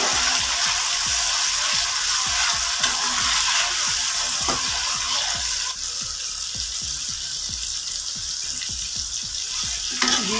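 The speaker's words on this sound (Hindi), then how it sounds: "बस 1-2 मिनट हम इसको भी इस तरह ऑयल में फ्राई कर लेंगे।" Tomatoes frying in oil in a pan for a mixed vegetable rice, giving a steady loud sizzle with bursts of spattering crackle throughout, alone without voices.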